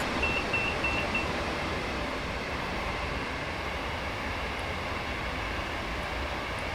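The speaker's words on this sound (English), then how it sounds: "a couple of Bakerloo line trains." Bakerloo line Underground trains passing in the Train Sim World 5 railway game, a steady loud rumbling rail roar with a few faint beeps early on, continuous throughout.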